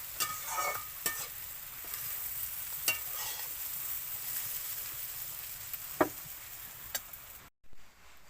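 Beans and shrimp fry in a pan with potato, a quiet continuous sizzle broken by occasional sharp taps and scrapes of a stirring utensil, no talking.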